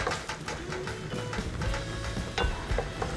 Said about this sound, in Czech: Na rozehřátý olej dáme cibuli s česnekem.